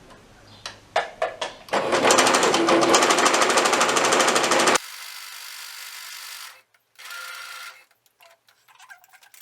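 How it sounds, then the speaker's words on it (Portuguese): A sewing machine stitches fabric pieces for a plush teddy bear, starting with a few short stuttering pulses, then running steadily at speed for about three seconds before stopping, followed by quiet handling clicks. "Costura em cima do risco, lembrando de dar o retrocesso sempre que você inicia e finaliza a tua costura."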